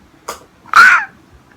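A single sharp sneeze, close and loud, preceded by a quick inhaled catch, in a quiet room.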